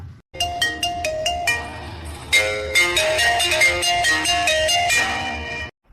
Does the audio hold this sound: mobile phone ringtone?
yes